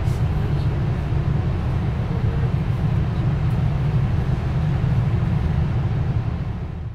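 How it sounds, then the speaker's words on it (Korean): A Canadian cross-country passenger train rumbles along at low speed, a loud, steady, low-pitched roar of wheels and carriage heard from inside for the whole stretch. "이 열차는 되게 자주 멈추고 또 천천히 달려요."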